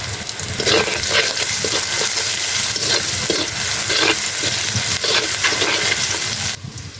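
Vegetables frying in a pan with salt and turmeric, a continuous sizzle broken by repeated scraping stirs about once a second, ending abruptly near the close.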